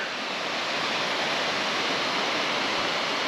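Beeman waterfall in the Jawadhu Hills roars in a dense, unbroken rush of falling water, loud and steady from start to finish with no voices.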